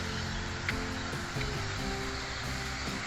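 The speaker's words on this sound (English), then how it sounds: "There's a little waterfall." Water from a small waterfall splashes into a quiet lily pond in the early evening, making a soft, steady rushing wash with a faint low rumble underneath and no one speaking.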